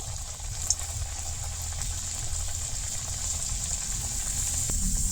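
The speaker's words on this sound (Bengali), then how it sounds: "তেলটা ওরকম গরম হওয়ার পরে লো মিডিয়ামে রাখিয়া ওই যে গজাগুলা দিলাম।" Gaja dough pieces, a Bengali wheat-flour sweet, frying in hot oil over low-medium heat, giving a steady close bubbling sizzle throughout with no talking.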